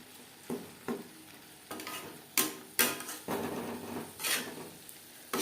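Fish oil and eggs frying in a pan with ginger paste and green chili paste, a steady low sizzle broken by several sharp stirring and scraping knocks of a utensil against the pan.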